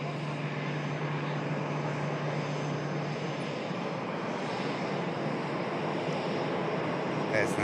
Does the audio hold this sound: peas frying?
no